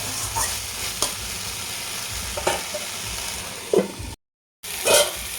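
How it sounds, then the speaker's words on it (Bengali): Vegetables stir-fried in a pan for a mixed-vegetable dish with bottle-gourd-leaf fritters, a steady close sizzle broken by several scraping stirs, one louder burst near the end around a brief dropout. "এটাও ভালোভাবে আমি নাড়াচাড়া করে নেব।"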